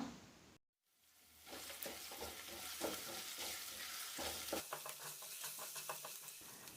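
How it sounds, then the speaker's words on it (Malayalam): Finely chopped ginger and garlic sauté in a pan, starting with a brief dropout and then a bright crackling sizzle broken by stirring scrapes and spatula taps, close by and moderately loud with no speech. "2 ടീസ്പൂൺ ഇഞ്ചി ചെറുതായിട്ട് അരിഞ്ഞതും 1 ടീസ്പൂൺ വെളുത്തുള്ളി ചെറുതായിട്ട് അരിഞ്ഞും കൂടി ചേർത്ത് കൊടുത്തിട്ടൊന്ന് വഴറ്റിയെടുക്കാം."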